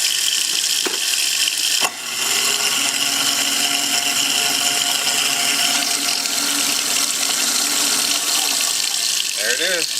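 A newly installed Waste Master garbage disposal grinds and roars steadily with water running into the kitchen sink, loud and close, with a brief clunk near the start.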